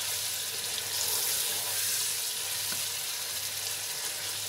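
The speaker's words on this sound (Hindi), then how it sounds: "इसको भून लेंगे जब तक ये हमारा गोल्डन ना हो जाए।" Onions or chicken frying in a pan for chicken pulao, a steady soft sizzle that runs evenly throughout at moderate distance, with no talking.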